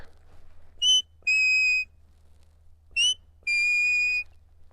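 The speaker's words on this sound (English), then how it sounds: "So that's my come by whistle." A herding handler gives a sheep dog the "come by" command whistle. A short sharp pip is followed by a longer steady tone, and the clear, close two-part call repeats twice against quiet surroundings.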